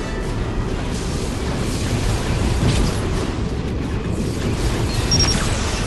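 Borg vessel blowing apart in Star Trek Legacy, a sustained loud rumbling roar of explosion with crackling bursts swelling across several seconds, no voices over it.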